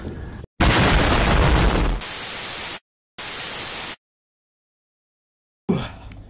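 Bomb explosion sound effect made of loud bursts of harsh static-like noise, a long blast followed by a quieter one, a pause, another burst, then silence before a final fading rumble.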